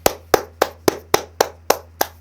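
Hands clapping at a steady, even pace, eight sharp claps close to the listener over a low constant hum. No voices.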